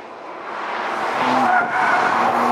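A 410 hp race car skidding through a fast lap at the Adria racetrack, tires squealing over a loud, rising engine roar heard from close by inside the car.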